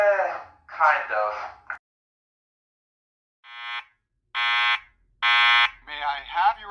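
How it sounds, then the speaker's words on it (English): A Simplex fire alarm system sounds loud horn blasts in three separate bursts after a spoken announcement from the alarm's voice evacuation system. "There has been a fire alarm reported in the building."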